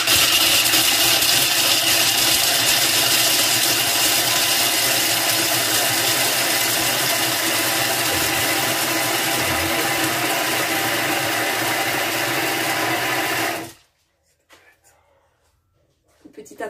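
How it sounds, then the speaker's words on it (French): A food processor running at speed 5 while it blends nuts into a paste: a loud, steady whirring drone lasts about fourteen seconds, then cuts off abruptly into near silence. "Je vais commencer par mixer vitesse 5."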